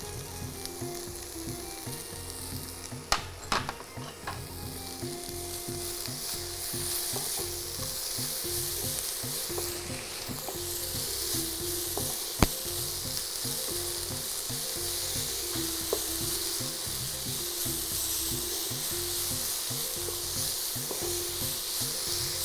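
Chopped tomatoes sauté in a pan for a bread sandwich, giving a steady close sizzle with occasional scraping stirs and clinks of a spoon. No voices come through the frying.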